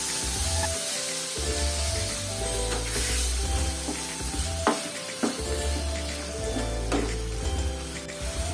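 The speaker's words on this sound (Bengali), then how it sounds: "এই সময় গ্যাসের ফ্লেম হাই রেখে আমরা চিকেনের পিসগুলোকে ভেজে নিচ্ছি।" Chicken pieces fry in hot oil over a high gas flame, giving a loud, constant sizzle broken by stirring clatters and spitting bursts over a low background hum.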